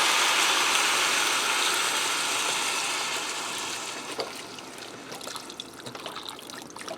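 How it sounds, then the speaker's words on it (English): Beef broth is poured into a Greenpan Omni cooker, a steady liquid trickle that is strong at first, then thins and fades to a few drips, heard close with no voices. "I'm going to add in some beef broth."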